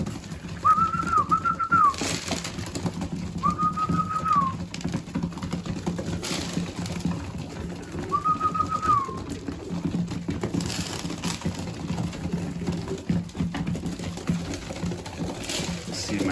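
Racing pigeons in a loft, with a few short soft calls repeating against a steady background of shuffling, pecking and scratching noise, close and moderately quiet.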